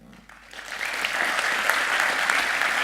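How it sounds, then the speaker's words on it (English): Audience applause at the end of a conference talk at DevFest Nantes 2017 swells after a quiet half second into steady, sustained clapping that fills the room. "before you start clapping"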